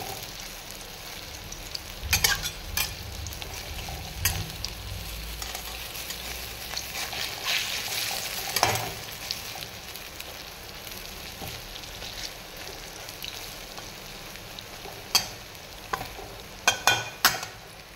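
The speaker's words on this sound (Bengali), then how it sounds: "এটা ফেটিয়ে আমি বড়া করে নেব ছোট ছোট করে।" Small lentil vadas for dahi vada fry in hot oil, giving a continuous close sizzle with scattered sharp pops and occasional stirring clinks, no talk.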